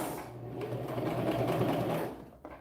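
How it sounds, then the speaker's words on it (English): A sewing machine stitches across faux leather for a purse, running in a fast, steady mechanical whir close by for about two seconds before slowing to a stop, followed by a faint click. "We're going to back stitch. We're going to sew all the way across."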